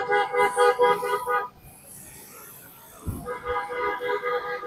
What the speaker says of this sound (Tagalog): maganda ang busina niya